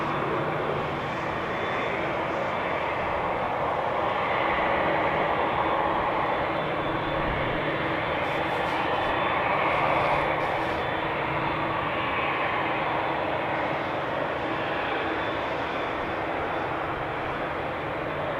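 Landed airliner at Amsterdam Schiphol taxis off the runway with a steady, broad engine roar that swells slightly midway and holds for the whole stretch.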